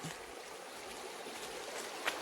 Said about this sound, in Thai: แม่น้ำตรงนี้มีสองสายนะ